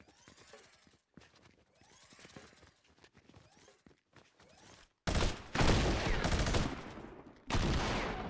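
Shotgun blasts in Fortnite start after a stretch of quieter game sounds: a loud burst of close, crackling shots, a brief pause, then another heavy round.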